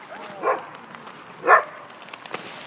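A Labrador dog gives two short, separate barks about a second apart over a quiet background, moderately near, followed by faint scuffling noises.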